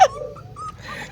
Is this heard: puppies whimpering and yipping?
yes